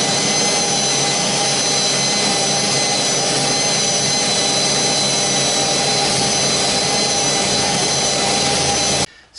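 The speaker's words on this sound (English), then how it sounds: "So this is probably about as painful for you to watch as for me to drill." Dull drill bit grinding through a fiberglass kayak deck during an inlay install, a steady, loud whining drone that runs unbroken for about nine seconds before cutting off abruptly.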